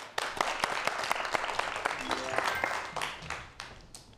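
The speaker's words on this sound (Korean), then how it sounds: "박수 부탁드릴게요" A studio audience at a broadcast first-aid lecture on choking bursts into applause: dense, steady clapping with sharp individual claps that holds for about four seconds before thinning slightly at the end.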